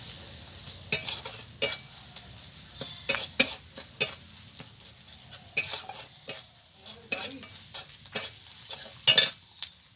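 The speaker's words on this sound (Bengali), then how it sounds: "মশলাটাকে ভালো করে কষিয়ে নেব।" A spice paste of cumin, coriander and chilli powder is fried and stirred, with quick, repeated scraping strokes over a soft sizzle. There is no talking.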